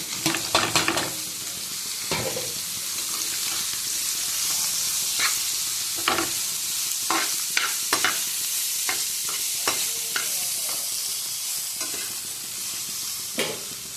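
Water lily stems frying with bay leaf, nigella seeds and chili in a pan, a steady loud sizzle with scattered sharp clinks and stirring scrapes throughout, close by and without talking.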